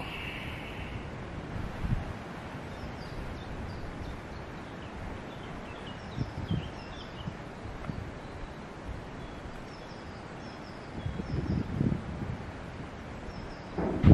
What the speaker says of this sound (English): right now the wind is kind of helping for my video